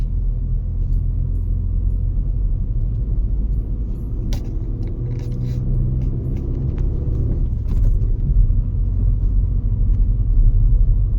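Car engine pulling up a steep, narrow hill road in first gear in the Morni Hills, a loud, close, steady low rumble heard from inside the vehicle, swelling slightly near the end.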